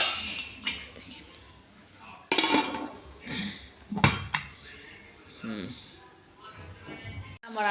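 Metal lid and pot clatter against a rice cooker in a home kitchen, several sharp clanks and scrapes spaced out, with someone talking between them.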